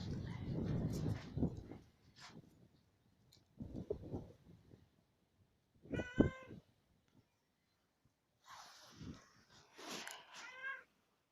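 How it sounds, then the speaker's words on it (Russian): A cat meows several times in a quiet room, drawn-out, plaintive calls spaced apart by pauses, with some rustling and soft handling noise at the start. "Бедный кот."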